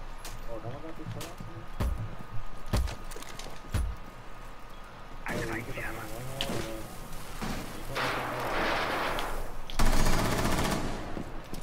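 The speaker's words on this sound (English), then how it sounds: "I shot Maverick" Gunfire in the Rainbow Six Siege video game: sharp isolated shots early, then denser bursts of automatic fire with loud, sustained rattling toward the end, while players talk over the action.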